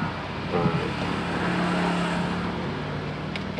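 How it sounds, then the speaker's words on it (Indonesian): A weak electric motor in a 1994 Suzuki Escudo JLX runs with a faint, strained whir that rises briefly into a low steady hum and then fades, with no talking over it. "Ini itu motornya jalan, cuma lemah nih."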